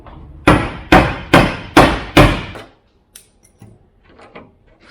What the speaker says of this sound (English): we're going to get this thing cleaned out a little bit and commence to beating that dent back.